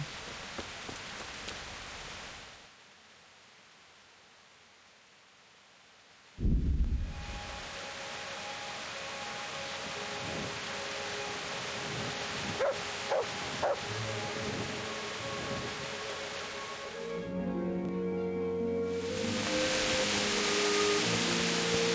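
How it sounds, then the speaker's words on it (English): Steady rain and storm ambience from the Kingdom Come Deliverance video game, a broad hiss that drops out briefly, then returns with a loud low rumble like thunder and continues through the rest, with occasional tonal game sounds. "Oh, it's storm now."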